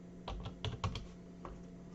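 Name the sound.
typing a confirmation number on a keyboard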